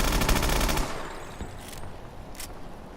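A PDW submachine gun fires in Call of Duty Advanced Warfare: one loud, rapid burst of automatic shots lasting under a second, followed by a fading echo tail and a few faint clicks, with no talking.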